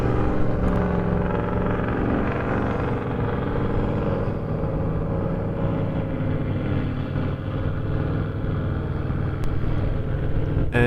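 A 4x4 climbs the Bilbunya sand dunes in Australia, its engine a loud, continuous, heavy drone that holds steady throughout.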